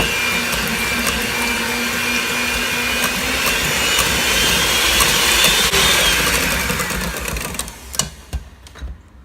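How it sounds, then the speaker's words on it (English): Yogurt and vanilla mixture whisked with a motorized mixer, making a steady loud whirring drone for about eight seconds that winds down and stops near the end. "and then we'll whisk"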